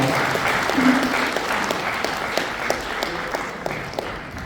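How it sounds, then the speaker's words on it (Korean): Audience at a Korean civic association lecture gives a big round of applause for the association president, steady close clapping with sharp individual claps standing out and a brief voice near the start. "늘 애쓰시는 양정호 회장님께 다시 한번 큰 박수 부탁드리겠습니다."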